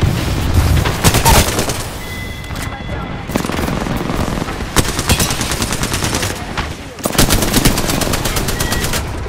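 Rapid automatic weapon fire in the Apex Legends video game, with dense bursts and bangs crackling loud and close, broken by brief pauses, while a voice speaks over the combat.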